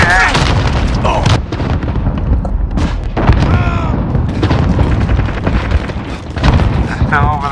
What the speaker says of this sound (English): Got blown up by a claymore.